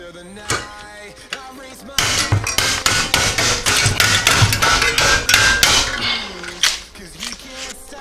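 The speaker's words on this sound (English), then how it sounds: "And then just pop all 12 rivets." Rapid metallic hammer strikes pounding twelve rivets on a baseball bat, a dense run of sharp close blows after a quieter opening, trailing off into a few scattered knocks.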